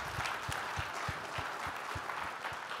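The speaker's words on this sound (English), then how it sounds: "Let's give them a round of applause for showing up being number one." An audience at a business event claps in a light round of applause, the individual claps spaced and distinct, fairly quiet and somewhat distant.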